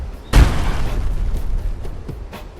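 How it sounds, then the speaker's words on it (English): Fallout power armor hits the ground with one heavy, loud thud and a booming impact, followed by a few softer clanks and thumps as it settles. "You still have a pretty good thud whenever your power armor hits the ground"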